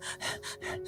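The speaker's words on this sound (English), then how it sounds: "Panting." Rapid panting breaths come in a quick, even rhythm of about four short huffs in under a second, close and breathy, shown as part of a yoga breathing practice.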